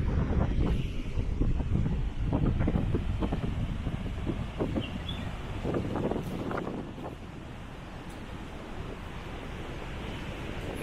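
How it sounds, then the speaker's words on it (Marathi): Strong wind buffets the microphone at a seaside garden in Devgad on the Konkan coast, a constant rough roar with gusty low thumps and a faint wash of surf behind it, and no one speaking. "जोरदार वारा आहे. वाऱ्याचा आवाज सुद्धा येत असेल तुम्हाला"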